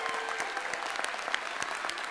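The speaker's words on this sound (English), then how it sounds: "join me in giving another round of applause to all of our graduates" Audience applause for midyear graduates at a 2014 recognition ceremony: steady, dense clapping from a crowd throughout, close and sustained with no pauses.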